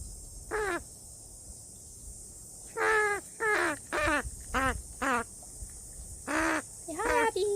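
A crow caws repeatedly, harsh loud calls in short bursts and pairs, close by, over a quiet background with no talking.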